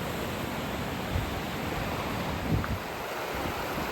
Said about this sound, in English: Here's a closer view of that waterfall, looking down from above it